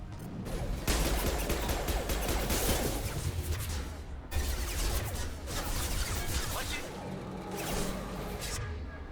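Gunfire in Mass Effect 2 fills the space as dense, sustained bursts of weapon fire and impacts, loud and continuous with a short break midway.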